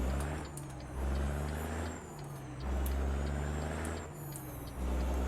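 A Peterbilt truck driving in American Truck Simulator, hauling a flatbed in Utah, gives a steady low engine drone that swells and eases in waves, with faint higher whines above it and no talk.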